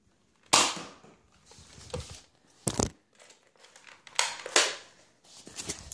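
A Nerf blaster fires in sharp, separate snaps, about five shots spaced unevenly with quiet gaps between them, each pop bright and close with a brief rattling tail.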